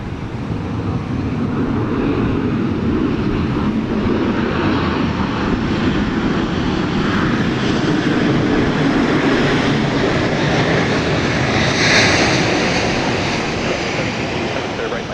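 A Southwest Boeing 737-800 arriving at Dallas Love Field on a rainy day, its engines a loud, steady broadband roar that swells slightly midway, with faint speech underneath.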